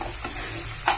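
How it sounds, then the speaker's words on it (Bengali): Tomatoes fry in oil for rajma masala and are stirred, giving a soft continuous sizzle with faint scraping strokes of a spoon in the pan, quiet and brief with no talking. "টমেটোটা দিলাম, টমেটোটা দিয়ে আমি একটু নাড়ব"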